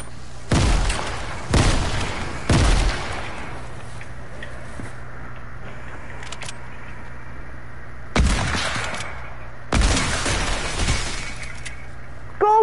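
Grenade blasts in a Fortnite-style battle royale game, five sharp booming bursts with shattering debris, spaced irregularly over a steady low game hum, no talking.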